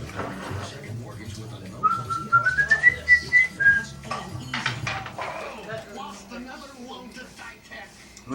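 A person whistles a short rising tune to a pet bird indoors, followed by a run of rhythmic tapping and clattering, while people talk throughout.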